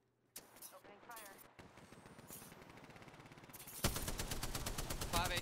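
Sustained automatic gunfire in Apex Legends, fast and rattling, runs almost nonstop and grows louder and denser toward the end, with a player speaking briefly over it.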